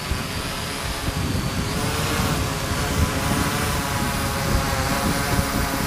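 A 650mm H-frame quadcopter drone built from pine wood, on its maiden flight and lifting off, gives a loud, close, continuous buzzing whir from its propellers that swells slightly as it climbs.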